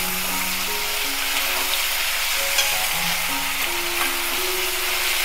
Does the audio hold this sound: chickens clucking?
no